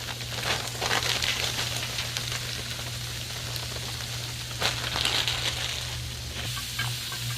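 Frozen cheese tortellini dropped onto a hot Blackstone griddle, giving a steady crackling sizzle like rain on a surface, with a low hum underneath and brief louder bursts of spatter.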